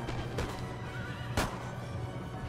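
Horses whinny and snort amid the battle noise of the Napoleon Total War video game. One sharp neigh stands out over a continuous din of cavalry and combat.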